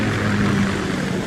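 Kamov Ka-60 Kasatka helicopter in the game Metal Gear Solid 2, a steady loud rotor and engine drone with a low hum underneath, heard alone for just over a second.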